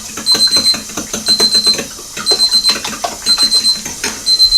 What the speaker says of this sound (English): There's my timer again.